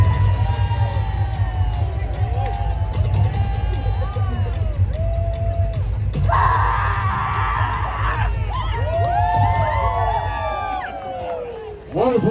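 An outdoor crowd at a Las Vegas pirate festival cheers and whoops during a cannonball-throwing contest, with a loud sustained roar, overlapping shouts, and a burst of screams partway through.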